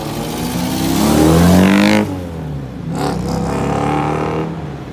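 An orange Audi RS4 revs hard up close, its engine note climbing to a loud peak, dropping off sharply, then surging again in a second, slightly softer rev.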